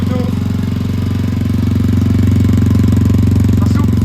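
A new motorcycle engine runs steadily, close and loud, with a rapid, even, knocking idle pulse and no change in pitch.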